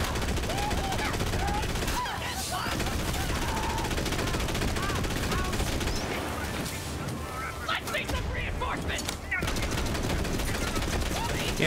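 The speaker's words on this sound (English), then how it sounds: "I think that was a pretty good demonstration of what the Gatling gun can do" A Gatling gun in the shooter Borderlands 3 fires in long, dense rattling bursts with a brief pause near the middle, loud and close amid chaotic combat noise, while someone talks over the shooting.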